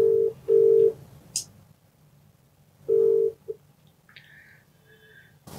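A telephone call is placed, with short beeping tones and ringback pulses separated by pauses, then a brief electronic line tone, quiet and close.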